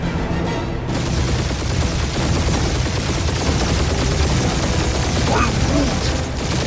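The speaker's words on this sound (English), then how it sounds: "Just make sure you're shooting while you do it." Ship guns fire in the Guardians of the Galaxy video game, a dense, loud, continuous barrage of rapid shots and blasts that fills the whole stretch, with game voices talking over it.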